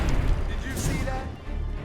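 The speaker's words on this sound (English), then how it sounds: "Grenade launcher." Grenade launcher fire in the zombie survival video game State of Decay, a dense booming crash and rumble heard under talking, loud and close throughout.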